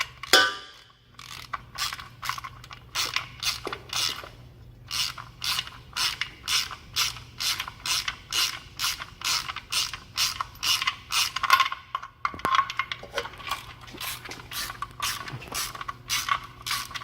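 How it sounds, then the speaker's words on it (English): A ratchet tightens an oil drain plug during an oil change, giving rapid, evenly spaced mechanical clicks in bursts with brief pauses between strokes, close and clear with no talking. "tighten back up your drain plug all the way on"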